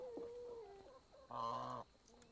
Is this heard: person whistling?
no